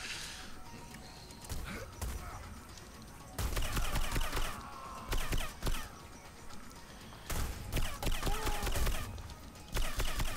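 Bursts of gunfire from the Hitman: Blood Money video game strike the player in repeated rattling volleys, loud and close, separated by brief lulls.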